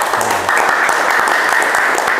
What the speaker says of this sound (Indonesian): Boleh tepuk tangan kelompok 3 ya.